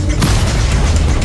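A loud, low rumbling boom as an explosion levels buildings in Crackdown 3, sustained and heavy for its whole short length.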